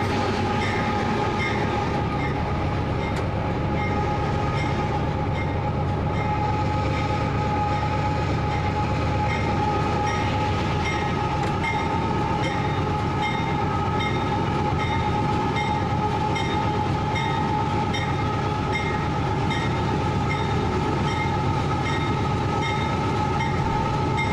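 Steady low rumble and drone inside the cab of a 4,400-horsepower freight locomotive built in 1997, with faint rail clatter and a constant engine hum throughout, no talking.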